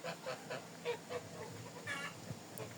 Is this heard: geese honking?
yes